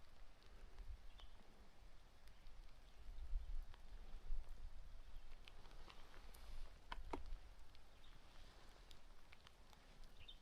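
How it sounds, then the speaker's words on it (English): Light rain pattering steadily outdoors on a mountain trail near Holland Lake, soft scattered drops over a low wind-like rumble, faint and continuous with occasional sharper taps. "Feels like rain coming from a cloud."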